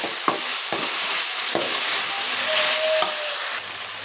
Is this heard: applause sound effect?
no